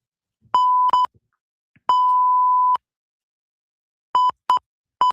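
Censor bleeps sound in silence: two short tones, then one held tone of about a second, then a quick cluster of three short tones, all sharp and identical in pitch.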